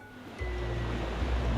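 Water rushing down a hole in the video game Skyward Sword, a loud, continuous low roar of flowing water that swells in after a brief quieter moment and keeps surging steadily.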